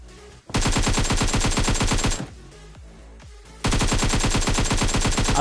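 Automatic weapon fire in the video game PUBG, two long sustained bursts of rapid loud shots separated by a short stretch of scattered single shots.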